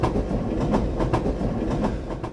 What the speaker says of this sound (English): And train.